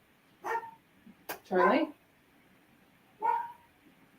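A dog barks a few times in short, separated bursts, near but moderately loud, with a name called out in between.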